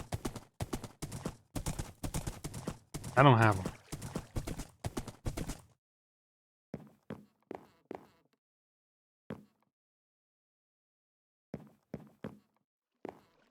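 Horse hooves clopping in the video game Valheim: a rapid run of steady footfalls that breaks off, then scattered single hoof steps spaced apart, with a brief spoken line partway through.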